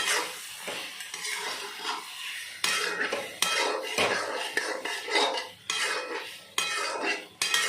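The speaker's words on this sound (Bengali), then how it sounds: "সয়াবিনটা দিয়ে দিয়েছি, নাড়তে থাকবো।" A metal spoon scrapes and clatters in a pan while boiled and fried soya chunks with potato are stirred, the repeated scraping strokes riding over a light sizzle, close and fairly loud.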